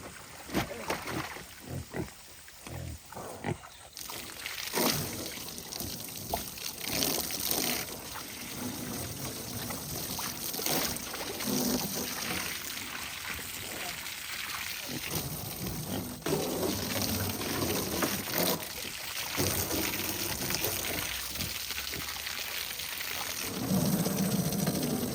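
Fresh water pours and splashes steadily into containers for farm animals on a hot day, a faint, continuous watery rush that swells and fades over a long stretch.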